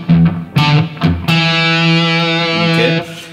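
Distorted electric guitar plays the opening of a riff: a few short picked notes, then one note held and sustaining for about two seconds, loud and close with no voices.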